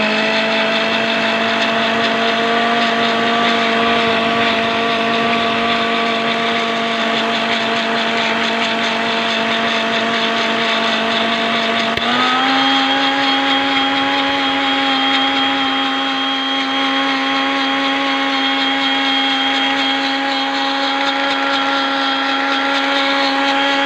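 A blender jar whirs steadily as it blends aloe vera gel for hair care, a loud, close motor hum with a bright whine that holds for over twenty seconds and shifts pitch once partway through, with no talking.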